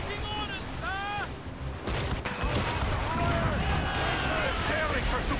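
Warship cannons in Assassin's Creed Rogue Remastered boom in heavy rolling volleys during a naval battle, with shouted voices and whistling calls mixed into the din.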